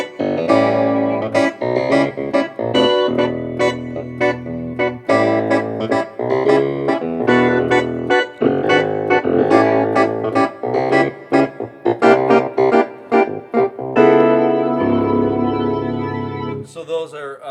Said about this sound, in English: You can hear the Leslie, the rotary from the organ in the background.